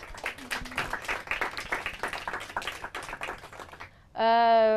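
Quiz show audience applauding a correct answer, a busy patter of many hands clapping for about four seconds, then cutting off into a sudden loud electronic tone at the end.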